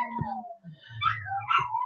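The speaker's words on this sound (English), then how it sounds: "Hey, stupid dog, shut up." A dog gives short whimpering yips and a brief howl-like cry, fairly close, with a couple of separate vocal bursts and no speech over it.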